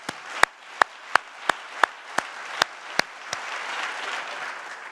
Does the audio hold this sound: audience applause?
yes